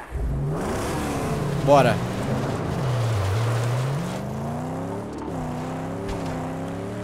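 A car engine drones and revs while driving in the Mad Max game on the way to a graveyard, its pitch rising and falling through gear changes, with someone talking briefly over it.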